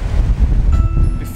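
Strong coastal wind buffets the microphone at the seashore before a storm, with low, rumbling gusts, constant and loud for a brief moment.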